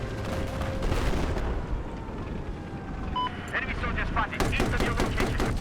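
Battlefield 4 gunfire crackles through a busy in-game soundscape, with scattered shots early and a denser run of rapid bursts near the end, as a voice talks over the fight.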